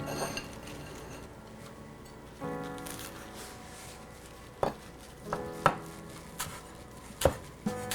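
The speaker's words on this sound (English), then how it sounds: "I've got some chives that I want to chop up." Knife chops chives on a cutting board in a home kitchen, starting with soft rapid taps, then a few sharper, louder knocks spaced apart, close and with no talking.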